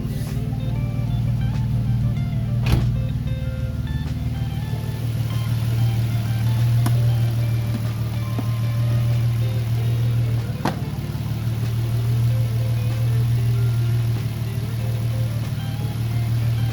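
A car engine idles steadily and close by as its air filter is pulled out, a low constant hum with a few sharp clicks and knocks of handling along the way and no talk.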